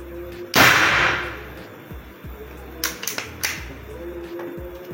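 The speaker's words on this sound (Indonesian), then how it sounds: "Ya, uji FPS senapan AFC nya." AFC Big Game PCP air rifle fired during an FPS chronograph test, giving one sharp close report followed by a decaying rush of air, then several smaller clicks and handling knocks.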